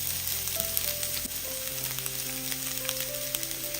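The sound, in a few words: chopped onion added to hot oil with garlic, frying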